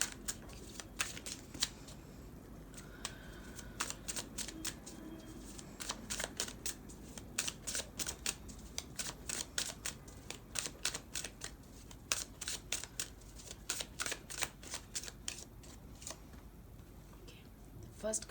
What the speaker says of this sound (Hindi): कुछ टैरो डेक से पहले कार्ड्स ले लेते हैं